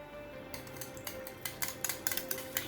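Yogurt beaten in a bowl for a South Indian buttermilk curry, giving a run of light, quick scraping taps that grow sharper and more regular toward the end, close by and fairly quiet, with no talking.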